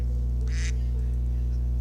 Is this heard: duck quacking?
yes